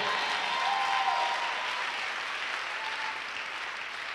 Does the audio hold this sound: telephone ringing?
no